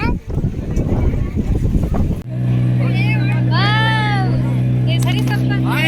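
A small passenger boat carries people on a river or lake, its engine a steady low drone with wind and water noise. People talk loudly over it at the start, with brief high calls later.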